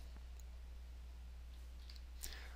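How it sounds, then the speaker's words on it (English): A single faint mouse click sounds near the end against a low steady electrical hum, with no talking. "And I'll click OK"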